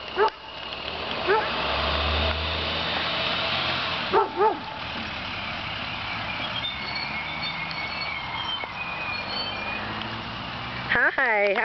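Dogs bark in short bursts, some high yips, amid excited voices and a passing school bus rumble, ending with a loud close bark.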